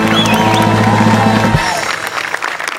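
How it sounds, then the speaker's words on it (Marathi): Studio audience of a Marathi comedy show breaking into loud, sustained applause and cheering, a dense wash of clapping that begins strong, then thins as a low musical tone drops out midway. "त्यांच्यासाठी सुद्धा एकदा जोरदार टाळ्या"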